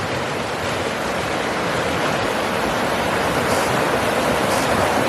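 The rain-swollen Estatoee River rushes in a loud, constant roar, a dense unbroken wash of noise close at hand.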